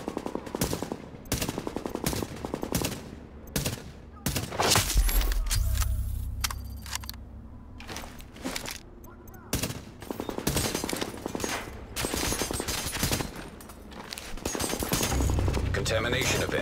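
Automatic gunfire from The Division in a sprawling, repeated burst pattern, with loud fusillades coming in waves and some rattling mechanical clatter among them, all heard close and dominant throughout.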